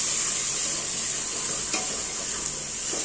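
Chili and spices roasting in a pan for raw peanut pulao, a dense constant sizzle with a few light scrapes of a stirring spoon, close and steady throughout, no one speaking.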